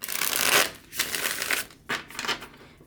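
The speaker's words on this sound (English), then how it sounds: "But let's shuffle" Tarot cards with a rose petal finish are shuffled close up, a few papery riffling bursts and rustles, soft and alone without speech.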